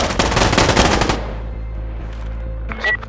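Automatic machine gun fire in the video game Insurgency Sandstorm, a loud sustained burst lasting about a second, then a lingering low rumble and faint background game sounds.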